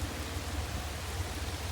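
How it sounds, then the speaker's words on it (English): Rain falls during a narrowboat cruise on a canal, a soft, even hiss of drops with a low patter underneath, fairly quiet and steady, with no talking. "And still it rains."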